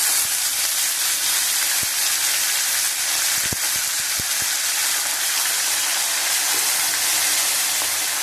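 Water is poured into a hot pan of ginger while cooking khichuri, and steam hisses loudly and steadily the whole time, with faint clinks and sizzling crackles mixed in.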